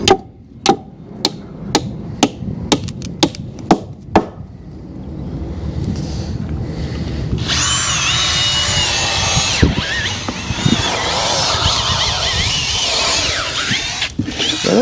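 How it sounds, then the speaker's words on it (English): A power drill runs while making lumber stackers, a loud continuous whirring drone that follows a string of sharp hammer-like knocks at the start. "That drill's not liking us today."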